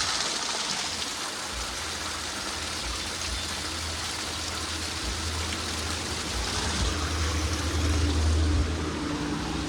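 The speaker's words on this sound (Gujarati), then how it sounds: "પાણી ભરી લે." Forest stream water rushes steadily as water is filled, a continuous broadband wash of flowing water with a faint low rumble underneath and no clear voices.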